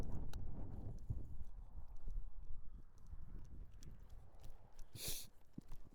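Horse hooves clip-clopping on the ground during a training session with a high-energy horse, a steady irregular run of footfalls with wind and handling noise throughout and a brief bright burst near the end.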